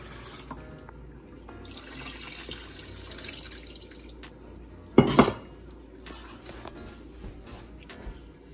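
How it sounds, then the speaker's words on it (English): Cold water is poured off cooked salt mackerel in a kitchen sink. A quiet, running trickle carries on with faint clinks of a pot, and one sharp, brief clatter of metal comes near the middle. "Finally pouring off that cold water we put in."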